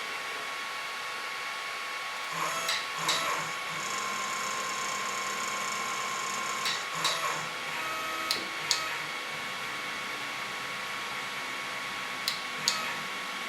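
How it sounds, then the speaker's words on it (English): A DIY CNC longarm quilting machine runs its homing routine, a steady mechanical whir and hum with several sharp clicks and knocks as it reaches its limit switches, fairly close. "now I'm going to tell the machine to home, and it's going to hit these limit switches"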